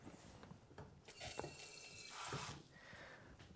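Tap water running into a large bowl of water and lemon for artichokes, a faint, steady splashing fill with a few brief surges and drips, close by and without talk.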